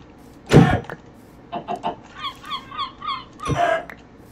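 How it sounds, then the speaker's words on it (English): Chickens in the Minecraft video game clucking in a short series of about six soft, evenly spaced calls, bracketed by two louder bursts of noise at the start and end. "Seal, better not take my chicken."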